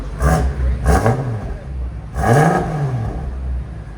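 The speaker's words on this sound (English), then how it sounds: "All right, give it gas." A 900hp BMW X6 M Competition fitted with downpipes and resonators, valves closed, blips its engine in three loud, close revs with rising and falling pitch, settling back to a rumbling idle between them.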